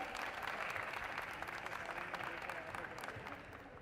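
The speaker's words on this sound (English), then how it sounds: "So let's give a big hand to Team Cypher." Applause from an audience at a Robocon 2024 national round robotics event honouring Team Cypher, steady continuous clapping with a faint crowd murmur, moderately distant and unbroken for a few seconds.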